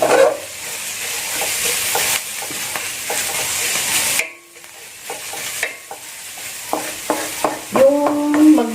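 Onions and garlic frying in a pan for adobo, a loud close sizzle and hiss with spatula scrapes that briefly drops away and then returns with clattering stirs, with no voices.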